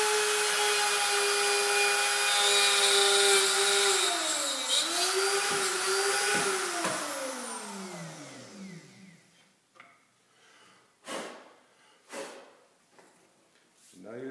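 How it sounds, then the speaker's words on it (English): A Hoffmann X 20 dovetail routing machine motor runs loud with a steady whine, its pitch sagging and wavering as the router bit is lowered into the cut, then winds down, leaving a few sharp knocks. "turn the motor back on, and just slowly lower the motor down"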